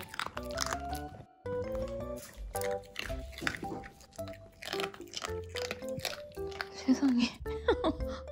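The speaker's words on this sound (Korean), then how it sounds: "구운 고구마를 애들이 이렇게 먹어." Dogs chew and crunch on roasted sweet potato close up, in irregular bursts of bites and squishy munching, while a person speaks briefly.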